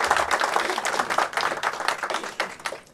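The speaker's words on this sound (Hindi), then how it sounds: "जोरदार तालियां बजा दीजिए एक बार।" Audience applause fills a film trailer launch event for a Hindi film about Maulana Azad, with dense, steady clapping from a sizeable crowd that stays loud and close throughout before easing slightly at the end.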